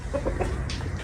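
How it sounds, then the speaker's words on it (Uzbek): A rooster calls out loudly and close by in a short, strained burst of harsh, clucking, crowing-like sound, with no talking over it. "Endi qichqiryapti ekan o'rtoqlar bu."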